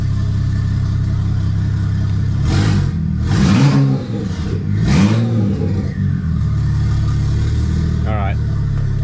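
A BMW N54 engine idles steadily at first start after a DCT gearbox swap, with a low continuous hum throughout while people talk over it in the middle.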